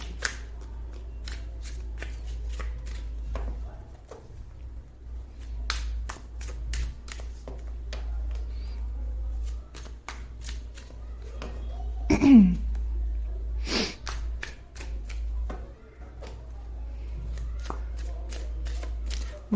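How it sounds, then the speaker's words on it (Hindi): Tarot cards shuffled by hand in repeated crisp riffling bursts, close and clear, with brief pauses between each round of shuffling over a low steady hum. "मैं कार्ड्स आपके सामने ही शफल करूंगी"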